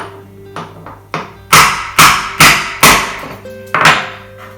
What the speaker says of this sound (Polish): Spróbuję jeszcze młotkiem.